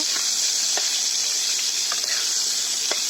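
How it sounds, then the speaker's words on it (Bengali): Eggplant slices fry in a pan of oil with a steady, bright sizzle that runs unbroken throughout, with a few faint taps from turning the pieces. "বেগুনগুলোকে লাল লাল করে ভেজে নেব।"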